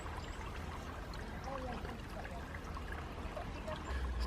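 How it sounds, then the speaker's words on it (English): A waterfall in the grounds of Chatsworth House rushes in a steady broadband roar, continuous and moderately near, with faint background voices in the mix. "Just in case anyone needs a minute of waterfall noises."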